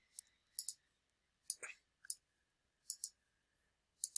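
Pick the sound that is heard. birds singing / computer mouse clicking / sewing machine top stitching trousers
computer mouse clicking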